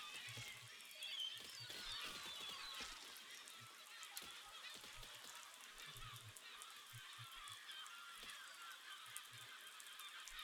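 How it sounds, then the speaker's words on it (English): A flock of geese honking as they pass overhead, with repeated overlapping honks rising and falling over about ten seconds, moderately distant above steady outdoor background noise. "let's give the flock a chance to fly through"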